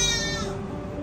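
A single goat bleat from a farm pen of mixed goat and sheep breeds, a brief wavering call that fades out, close and clear with no speech.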